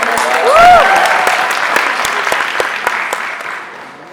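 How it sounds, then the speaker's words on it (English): A large crowd claps loudly at a YouTube FanFest creator camp event. The dense, sustained applause starts with a brief cheer or whistle, then fades slowly toward the end. "give them a huge round of applause"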